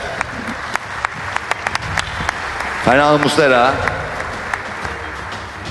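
Applause greets football players as their names are called onto a stage at a best-eleven awards event, steady clapping running throughout beneath an announcer's voice reading names.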